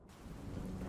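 Rumbling thunder with a rain-like hiss from the video game UNmetal, swelling in a single low roll that fills the short moment without speech.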